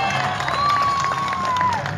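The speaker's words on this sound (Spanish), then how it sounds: "Un aplauso para ellos, por favor." Crowd applause and cheering at a Divina Providencia town festival in 2019 where queen candidates are tallied, a steady dense roar of clapping and shouts with a whistle-like tone rising through the middle.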